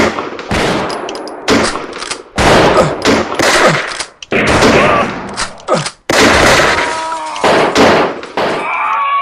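Rapid gunfire bursts in a radio drama standoff, loud and close, repeated volleys with short gaps across the scene, crackling like machine-gun fire with no talk over it.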